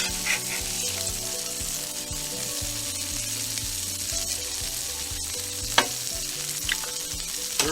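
French fries sizzling on a Blackstone 22 inch griddle, a steady close crackling hiss with a rhythmic low scraping of a spatula and a sharp clack or two, no voices.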